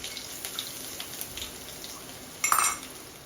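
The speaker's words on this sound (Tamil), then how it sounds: "கொஞ்சம் நல்லா வதங்கிடுதுங்க" Garlic, urad dal and chana dal sauté in oil in a pan, giving a faint steady sizzle with light clinks of a utensil and a brief louder scrape near the end, heard close.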